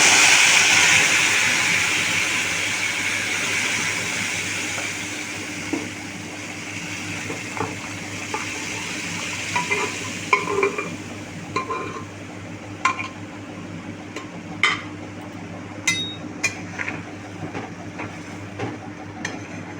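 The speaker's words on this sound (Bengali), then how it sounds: "ডালটাকে আস্তে করে আমি দিয়ে দেবো এর মধ্যে" Dal poured slowly into a pan of hot, ready tempering makes a steady sizzling hiss that starts strong and fades, with a few scattered clinks and pops later on.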